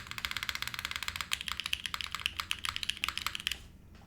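Rapid, steady typing on a mechanical keyboard fitted with Nixie switches, close and crisp with dense even clicks that stop abruptly near the end, no voices.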